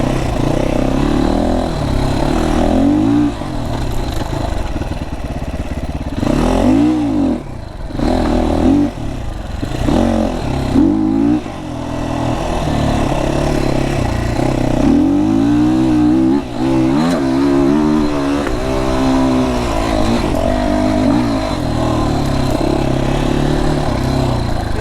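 An FSE300R engine revs up and down repeatedly, its pitch rising and falling in sweeps, loud and close, with a steady rumbling drone throughout.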